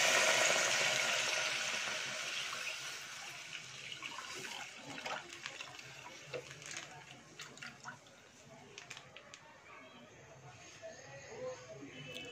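Milk poured into a pan after fried dates for harira, a loud liquid pour that fades over the first seconds, then softer bubbling and clinks with talk.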